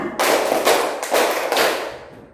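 A group of people, likely children in a classroom, clap their hands together in a counted rhythm exercise, giving several loud, dense bursts of claps in quick succession, close by.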